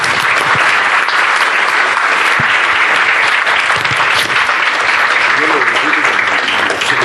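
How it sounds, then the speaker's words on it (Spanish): Sustained loud applause from a medical conference audience paying posthumous tribute, continuous dense clapping for about seven seconds with faint voices underneath. "darles un aplauso póstumo"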